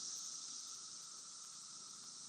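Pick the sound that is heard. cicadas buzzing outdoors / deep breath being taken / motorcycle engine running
cicadas buzzing outdoors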